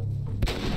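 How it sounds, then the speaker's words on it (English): A single sharp gunshot from The Last of Us video game, a loud sudden crack rising out of low ambient game sound and followed by a brief ringing tail. "now who's firing at me?"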